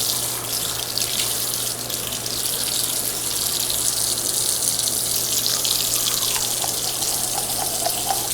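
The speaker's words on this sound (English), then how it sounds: "Let's wash our face now." Steady rush of water from a tap into a sink while washing the face, continuous and close with a low hum underneath.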